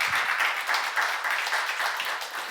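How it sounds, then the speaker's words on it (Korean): A church congregation at a Korean seminar claps together, a fairly dense, even patter of hands sustained throughout without a voice over it. "박수 쳐요."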